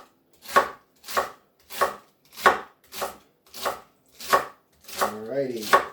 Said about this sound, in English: Right, so just going to slice that all the way along.